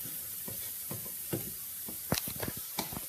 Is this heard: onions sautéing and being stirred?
yes